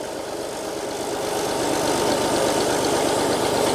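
A tractor fitted with a mounted excavator rolls downhill in low gear. Its engine gives a loud, continuous, rattling drone that stays close and steady throughout, with no voices over it.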